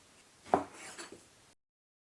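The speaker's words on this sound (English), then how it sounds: "just cut them with my trusty meat cleaver into the appropriate size" A trusty meat cleaver chops through chunky pork spare ribs on a board, one sharp thwack followed by a lighter second strike, close and clear with no talk over it.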